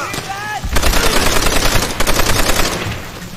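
Loud, sustained rapid machine gun fire in the Call of Duty: World at War video game, a dense rattling burst that runs almost continuously for about three seconds after a short vocal sound at the start.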